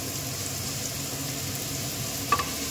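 Chopped beet, carrot, potato and peas fry in a pan with a steady, moderate sizzle. A single utensil clank sounds near the end.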